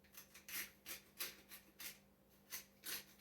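A hand grinder cranking Black Cajun Seasoning over roasted veggies, giving about eight short, rhythmic raspy grinding bursts, close and fairly quiet, with no talking.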